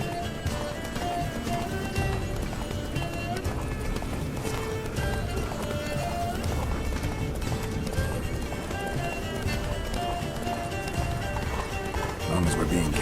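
Roach the horse gallops steadily in The Witcher 3, hooves drumming in a fast continuous rhythm under music and voices, with a whinny near the end.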